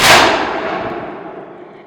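A single sharp, loud boom with a long fading tail, like a mortar round being fired nearby, trailing off over about two seconds.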